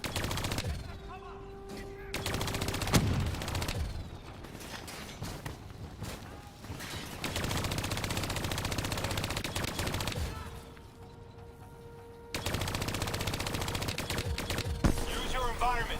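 Bursts of automatic gunfire in the Call of Duty: Black Ops III video game, rapid rattling volleys broken by short lulls, loud and close, with voices talking over parts of the action.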